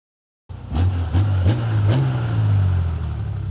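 An Audi RS4 engine starts and settles into a deep, steady exhaust rumble nearby, loud and continuous, with a slight rise in pitch partway through; no one speaks.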